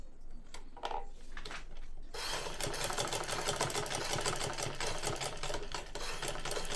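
An electric sewing machine stitching cloth for a neck design, a few short starts and stops before settling into a steady, fast, continuous rhythmic hum of the needle running close and clear.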